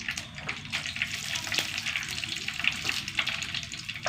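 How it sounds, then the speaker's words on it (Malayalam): Mustard seeds and a couple of dried red chilies crackle and sizzle in hot oil, a steady close frying hiss with occasional sharper pops throughout. "എണ്ണ ഒഴിച്ചു കുറച്ച് കടുക് രണ്ട് വറ്റൽമുളക്"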